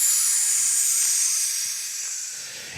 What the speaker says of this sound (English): the world famous, UN sanctioned, and Olympic Committee approved 1 minute roundup steam release sound